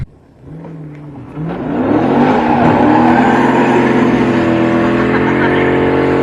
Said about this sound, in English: I've done donuts.